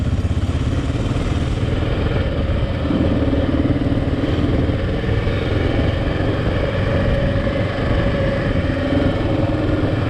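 An all-trail motorcycle idles steadily during a morning ride in Maine, its engine a continuous low, slightly clattering rumble that stays close and even throughout.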